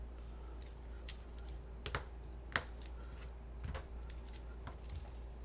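Keys on a mechanical keyboard clack in quiet, irregular bursts over a steady low hum, with a few sharper strikes standing out.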